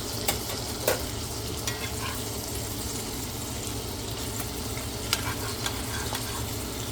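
Sausage frying in a pan at home, a steady dense sizzle and crackle throughout, with a few sharp clicks of a utensil against the pan and no voices.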